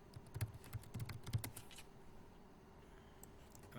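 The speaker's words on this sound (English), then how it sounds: "I'm going to type in the correct password" Soft, close keystrokes on a computer keyboard as a password is entered, a quick burst of taps in the first second and a half, then quiet room tone.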